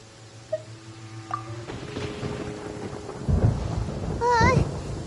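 A thunderstorm in Genshin Impact rumbles with heavy low booms and rain, loud near the end, after a quieter stretch of tonal game chimes and sweeping effects.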